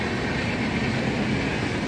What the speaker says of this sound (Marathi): आपली सेंट्रल रेल्वे चालली आहे